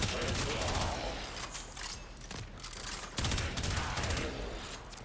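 Rapid gunfire from a primary weapon in the video game Warframe, dense continuous bursts of shots with a short lull partway through, loud and unbroken by talk.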